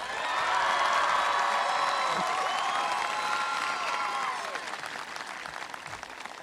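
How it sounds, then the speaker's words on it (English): Audience applause and some cheering at a high school graduation ceremony, strong at first and then thinning toward the end, with a few whoops rising over the clapping. "Please give him one more round of applause."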